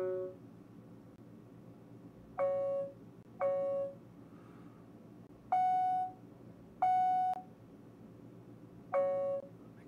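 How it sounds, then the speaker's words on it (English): Electronic beep sound effect for an Alexa skill: five short, clean tonal beeps sound alone at uneven intervals, two pairs at lower pitch and a final one, over faint background hiss. "Electronic beep 2."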